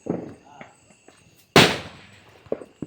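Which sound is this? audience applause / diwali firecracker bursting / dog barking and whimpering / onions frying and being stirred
diwali firecracker bursting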